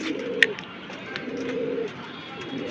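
A pair of Giribaz high-flyer pigeons coo in soft, low, drawn-out phrases with short pauses between them. A sharp click sounds near the start, and a quiet room hum sits underneath.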